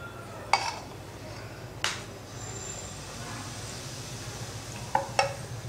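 Fermented batter for onion uttapam is ladled onto a hot pan, producing a soft, steady sizzle under a few sharp metallic clinks of the ladle against the pan.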